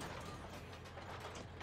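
Inside a T-54 tank in a video game, an armor-piercing shell is loaded into the gun with a dense burst of ratcheting, clanking mechanical noise, no talking.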